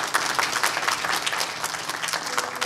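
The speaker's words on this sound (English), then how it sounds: "please give Hunter a round of applause." Graduation audience giving a round of applause, steady dense clapping throughout, moderately loud and close, with no talking over it.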